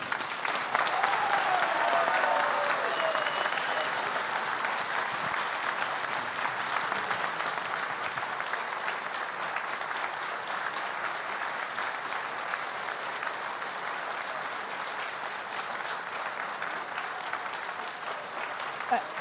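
Sustained audience applause fills a hall at the final of a funeral-ceremony masters' eloquence contest in Paris, loud and even at first and then slowly tapering while continuing throughout.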